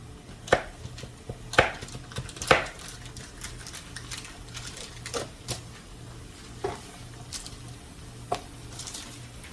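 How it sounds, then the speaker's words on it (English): A knife slicing through a stick of butter on a board, several sharp cutting taps spaced irregularly over a quiet background, close and fairly distinct, no talking. "I'm going to cut it up a little bit"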